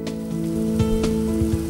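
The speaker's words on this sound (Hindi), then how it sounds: "तेज मूसलाधार बारिश शुरू हो गई" Heavy monsoon downpour in Delhi hisses steadily as a dense, loud wash of rain pounding surfaces, with a few scattered splashes standing out and no voices.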